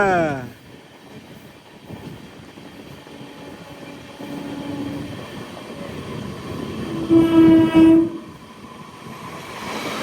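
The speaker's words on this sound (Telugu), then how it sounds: "ట్రాక్ మారుతుంది మన బండి." A train rumbles steadily along the rails with a low mechanical drone, rising briefly near the end as wheels clatter through a crossover onto another track.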